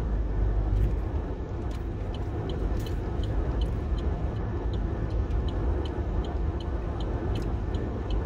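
Steady in-car road noise on Rock Creek Road near Highland, Arkansas: a constant low tire and engine rumble with a regular soft ticking, close and continuous, with no talk.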